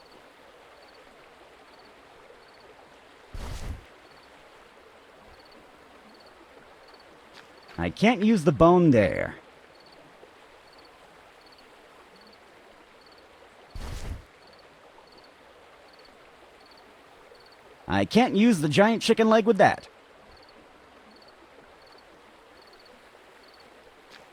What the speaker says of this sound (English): It's the town river, full of calm, warm water, and killer piranhas.